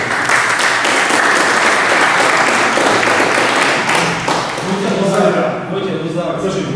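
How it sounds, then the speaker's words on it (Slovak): Seminar audience giving close, loud applause, a dense run of clapping that thins out toward the end as voices start talking over it. "Zatleskajte."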